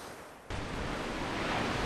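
Strong sea waves break on the shore at a small seaside fishing village facing open ocean to the south. A dense, roaring wash of surf comes in suddenly and stays loud and steady, with no voices.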